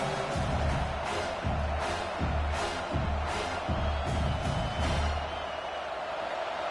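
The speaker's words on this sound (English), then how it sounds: "listen to this crowd noise. This stadium is vibrating." A steady, dense roar of a large college football stadium crowd fills the clip, constant and loud with a low rumble pulsing underneath.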